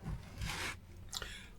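Brushing and scraping at a clogged power connector on a Lenovo V15 G2 laptop, two short bursts of dry rasping close by, separated by brief quiet gaps.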